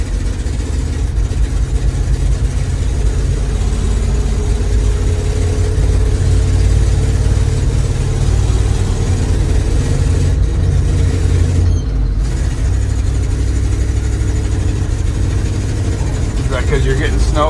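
The engine of an old tow truck idles loud and close with a rough, uneven rumble and slight sputters, running steadily throughout while someone talks over it.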